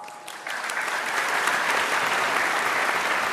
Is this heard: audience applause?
yes